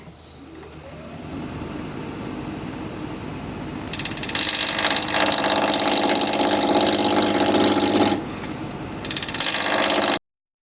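A wood lathe spinning at 1,000 RPM while a freshly sharpened 5/8 inch bowl gouge cuts a tri-corner bowl: a steady motor hum, then a loud rough hissing cut that stops and briefly resumes.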